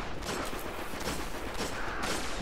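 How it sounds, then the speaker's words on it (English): A pulse rifle fires in Destiny, rapid bursts of gunfire crackling in repeated clusters over a busy, noisy background. "This is a pulse rifle."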